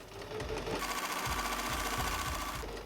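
A sewing machine runs a seam along the wrong side of the fabric, a steady fast mechanical whir with a rhythmic needle pulse, close and moderately quiet, without any voices.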